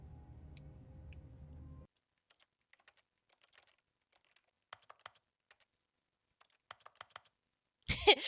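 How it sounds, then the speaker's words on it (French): Sparse, faint clicks of old spring-loaded keyboard keys being pressed one at a time in The Stanley Parable, after a steady low hum cuts out, ending in a brief loud burst. "Les bruits de vieux claviers à ressort sont géniaux."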